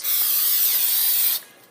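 Cooking spray hisses onto a baking pan for pizza in one steady, close burst lasting over a second, then cuts off abruptly.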